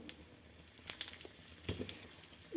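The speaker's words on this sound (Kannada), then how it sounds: "ಈಗ ಇದಕ್ಕೆ ಒಂದು ಚಮಚ ಅಷ್ಟು ಸಾಸಿವೆ ಸೇರಿಸ್ತಾ ಇದ್ದೀನಿ ಸಾಸಿವೆ ಸ್ವಲ್ಪ ಸಿಡಿಲಿ" Mustard seeds spluttering in hot oil for Avarekal huli sambar: faint, scattered sharp pops and crackles over a low sizzle, with a few louder pops grouped together and no talking.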